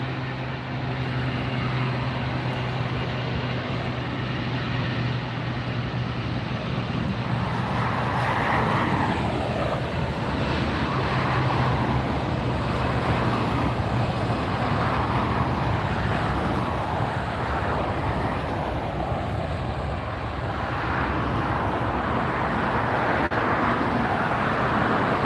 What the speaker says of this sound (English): That's Delta Airlines heading off to Denver. 2004 is the flight number, Airbus 319.